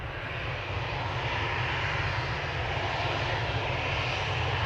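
Steady, loud jet roar from the engines of a Singapore Airlines Airbus A350-900 at Manchester Airport, a broad continuous rumble holding level throughout with no voices.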